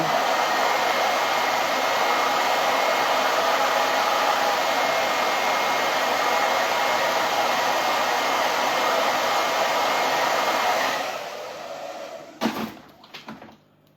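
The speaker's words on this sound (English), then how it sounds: "I'm just gonna blow dry the black Sharpie" A hair dryer roars steadily for about eleven seconds while blow-drying black Sharpie ink on an autumn craft, then switches off, followed by a few brief knocks and handling noises.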